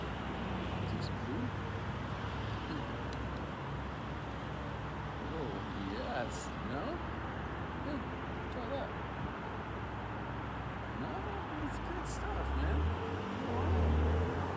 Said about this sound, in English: All these trucks and crazy noises and everything else.